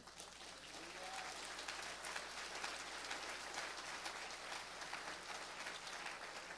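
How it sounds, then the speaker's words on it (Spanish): Congregation applauding in a church service, a dense, steady wash of many hands clapping at moderate distance that holds for the full stretch without a break. "Denle un aplauso al Espíritu Santo"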